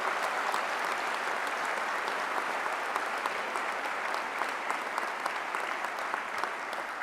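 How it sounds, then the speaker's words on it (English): Sustained, even applause from a large commencement audience for medical school graduates, dense and continuous with no talk over it. "Give these people a round of applause, would you please?"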